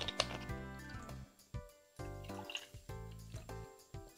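Water poured into a small electric cooking pot, a series of close, hollow dripping and splashing pulses with ringing tonal notes, irregular bursts that start and stop, quiet and without talk.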